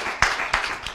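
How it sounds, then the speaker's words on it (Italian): Audience clapping for Flavio Zoppas at a live televised final in Vittorio Veneto, with short bursts of applause rising briefly above a steady crowd murmur. "Un applauso a Flavio Zoppa"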